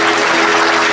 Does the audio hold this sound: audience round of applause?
yes